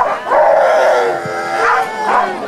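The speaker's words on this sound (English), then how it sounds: "Oh, that was a good howl." Sled dogs howl at the start of the Yukon Quest 2011 race, several voices rising and falling together in long wavering howls, close and loud.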